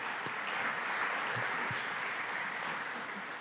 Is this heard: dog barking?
no